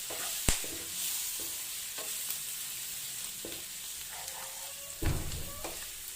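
Lemon juice stirred into Hyderabadi fried mutton (tala hua gosht) in a pan, soft sizzling throughout with a few sharp scrapes and clacks of the spoon against the pan.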